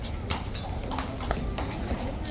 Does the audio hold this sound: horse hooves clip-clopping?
yes